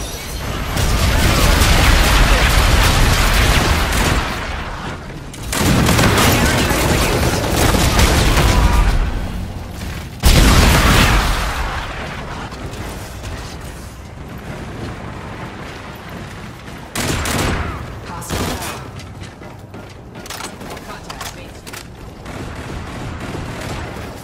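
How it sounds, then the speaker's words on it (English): An enemy bombardment pounds the area in a futuristic sci-fi shooter, long roaring explosions rolling one after another with heavy low rumble, a loud fresh impact midway, then quieter blasts and debris fading out. "Enemy bombardment incoming."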